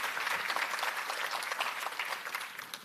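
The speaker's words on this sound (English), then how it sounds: "please give them a round of applause before they share their ideas" Audience applause for panelists at an international cultural summit in Hong Kong, a dense, steady wash of many hands clapping for about three seconds with no talk.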